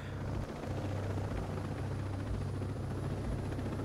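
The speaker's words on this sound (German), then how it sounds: "Ich will den Heli jetzt nicht gleich schrotten" A helicopter in the video game Ghost Recon Breakpoint gives a loud, steady rotor drone with a deep thrumming beat that runs unbroken through the whole stretch, with no voices over it.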